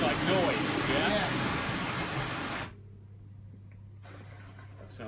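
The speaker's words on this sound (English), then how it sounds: "That sounds like rain." Rain-like hiss played through loudspeakers, a dense steady wash that cuts off abruptly partway, leaving a low hum before faint noise returns.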